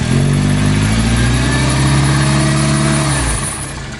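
A Toyota Tarago TCR10 engine, just back together after a cylinder head refit, revs steadily and loudly up close, holding a smooth, even drone before easing off near the end.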